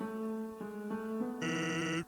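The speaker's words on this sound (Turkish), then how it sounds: "Oha telefon çalıyor." In the video game Undertale, a telephone rings with a steady tonal electronic chime that steps up in pitch, played alone for about two seconds.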